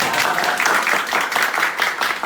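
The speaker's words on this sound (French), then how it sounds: "Applaudissements." Applause from a small group greets the unveiling of a clothing brand, a dense close patter of hands that holds steady for a couple of seconds.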